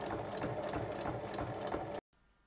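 A sewing machine runs steadily, stitching a zipper to lined fabric along its full length, with a close mechanical whir and rhythmic needle thumps that stop abruptly near the end, leaving quiet room tone.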